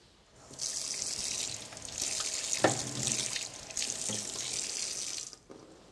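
Hot tap water runs steadily from a kitchen faucet as a knife blade is rinsed under it before unmoulding a chilled foie gras and chocolate terrine, a soft hissing flow with slight splashing changes, heard alone.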